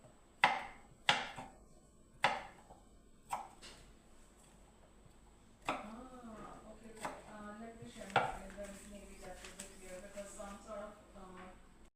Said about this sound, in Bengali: দেখুন বন্ধুরা, এবার আমি আলুটা কেটে নিচ্ছি ছোট্ট ছোট্ট করে।